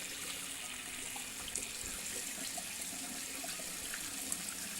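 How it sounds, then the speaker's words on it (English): Dried beans being rinsed under clean running tap water, a soft, steady stream of water splashing with faint light clatters, quiet and continuous with no talking. "I make sure I give them a really thorough rinse in some nice clean fresh water."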